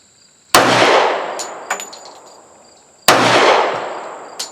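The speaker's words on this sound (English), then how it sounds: "The slide releases when you slam the mag in" Kahr CM45 or CT45 pistol slide slamming forward as the magazine is rammed home, two sharp metallic clacks about two and a half seconds apart, each with a bright ringing tail and a faint click between them.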